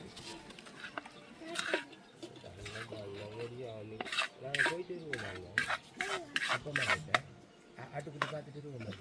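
Rice is tossed and scraped in a clay pot for tomato rice, giving rhythmic rubbing and clattering strokes, close and moderately loud, with a person talking over it throughout.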